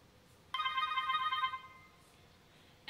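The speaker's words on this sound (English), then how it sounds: "And the IP4 is ringing now." A Grandstream IP phone rings from an incoming door phone call, one electronic ring burst lasting about a second, clear and close against a quiet background, with a faint start of another ring at the very end.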